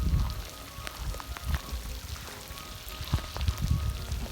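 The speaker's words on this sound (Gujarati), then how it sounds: "તો ગાઈઝ જોઈ શકો છો એકદમ ફૂલ વરસાદ" Heavy rain falling outdoors at Jinjuda dam, Nana Zinzuda: a steady wash of drops with soft, irregular patters and splashes close by, fairly faint, with no talking.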